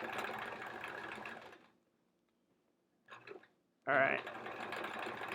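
Sewing machine stitching small free-motion quilting circles, running steadily for a moment, stopping, then starting again in short bursts, with a brief spoken remark in between.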